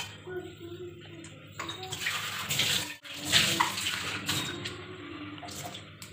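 Tap water running and splashing into a container to soak store-bought tamarind in a home kitchen, a steady close gush that briefly cuts off and resumes, with voices in the background.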